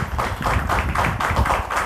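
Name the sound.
audience clapping to welcome speakers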